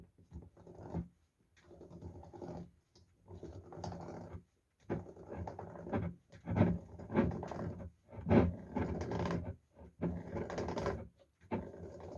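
A seaming key clamps and turns a metal lid onto a jar of pickled tomatoes, giving repeated close scraping, grinding bursts in an irregular rhythm with short pauses between turns.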